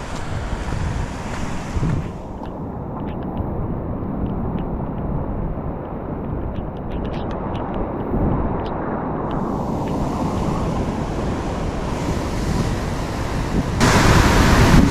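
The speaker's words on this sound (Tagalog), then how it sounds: "Wow, lalaking alon." Heavy surf crashes and roars continuously, with wind buffeting the microphone throughout and the rush swelling louder near the end.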